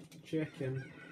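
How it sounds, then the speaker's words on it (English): Chicken clucking in the Ocarina of Time video game, a short pair of mid-pitched clucks over faint background noise. "come on, chicken"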